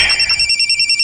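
Telephone ringing with an incoming call, a loud, close electronic trill pulsing rapidly and evenly throughout, no voices.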